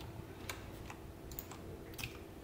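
A few faint, sparse clicks of keys being pressed on a computer keyboard, including the Ctrl key, quiet and close over a low background hum, with no talking.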